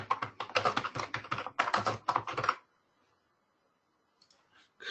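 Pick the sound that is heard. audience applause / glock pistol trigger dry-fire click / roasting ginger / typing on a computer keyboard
typing on a computer keyboard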